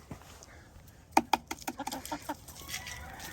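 Chickens clucking in a farm setting, a run of short irregular clucks and squawks starting a second in, fairly close and alone over faint background noise.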